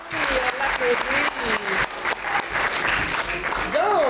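Audience clapping at a live improv comedy show, continuous applause with voices and whoops rising over it, a performer speaking through the noise.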